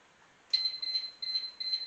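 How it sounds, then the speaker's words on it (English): A smartphone alert chimes for an electric Masterbuilt smoker that has come up to temperature, sounding as a steady high tone in three short repeated pulses, close by and clear with no talking. "That was my phone going off telling me that the smoker has reached the desired temperature again."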